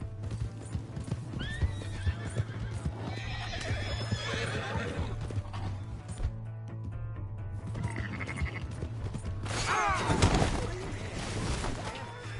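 A horse in the Red Dead Redemption 2 video game neighs loudly over continuous clip-clop hooves and a steady hum, a sharp whinny rising near the end.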